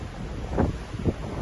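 Wind gusts across an offshore rig during a rig move, a steady rumbling roar buffeting the microphone with a few stronger pulses.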